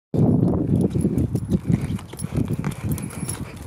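A horse walking, hooves clip-clopping in a steady, fairly close rhythm of repeated dull knocks, with no talking over it.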